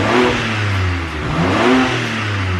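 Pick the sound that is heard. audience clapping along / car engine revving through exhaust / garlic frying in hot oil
car engine revving through exhaust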